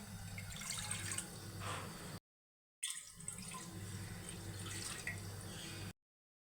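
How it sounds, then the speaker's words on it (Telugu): Water poured into a pressure cooker on a gas stove, a close, even splashing and gurgling stream in two bursts separated by a short silence, with no talking. "రెండు గ్లాసుల నీళ్లు పోసి"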